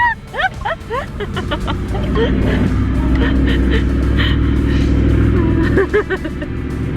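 A 4WD climbs a sand dune crossing on the Canning Stock Route in the Australian outback, its engine rising into a loud, steady labouring drone with rattling and shaking, joined by a few short barks early on.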